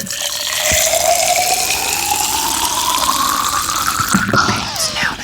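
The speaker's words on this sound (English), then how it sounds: "I'm just gonna fill it up with some water first" Water pours steadily into a container, the filling tone rising gradually in pitch as the vessel fills, close and clear with a brief splash or clunk near the start and end.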